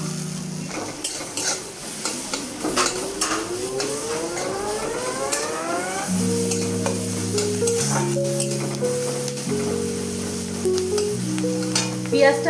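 Chopped onion sizzles steadily as it fries in a pan, stirred now and then, while a melodic tone rises and then steps through held notes throughout.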